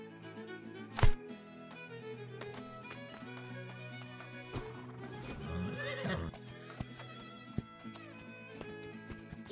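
Spirit the horse in a Spirit video game gives a sharp whinny near the start, followed by scattered hoof clops and soft game sound effects at a moderate level.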